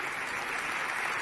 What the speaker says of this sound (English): Let's give Cheryl a round of applause.